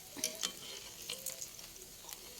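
Burger patties frying in a pan, a steady soft sizzle with scattered faint crackles and light pops, fairly quiet and continuous with no talking.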